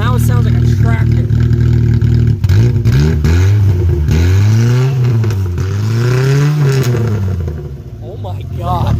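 A Mk1 Volkswagen engine with its muffler sawed off revs loud and close, its raw, tractor-like exhaust note rising and falling through several throttle blips with a rough rattling edge.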